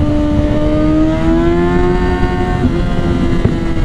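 A Kawasaki Ninja 400 motorcycle engine accelerating, a loud, steady close-up engine drone whose pitch climbs smoothly through the gears with no voices over it.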